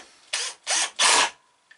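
A Power Plus 20V cordless drill driver drives a screw in three short bursts, each a loud buzzing whir of motor and gearing, close by with brief pauses between and no talking.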